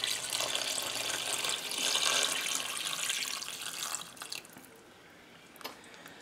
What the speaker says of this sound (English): And now I'm going to add in my broth.